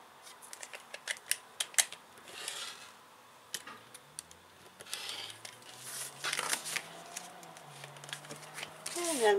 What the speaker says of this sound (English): So I'm going to cut my vinyl.